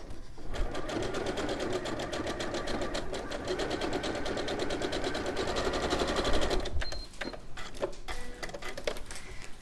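A sewing machine runs a zigzag stitch in a fast, even mechanical chatter for several seconds, close and loud, then stops and gives way to a few softer clicks and handling noises.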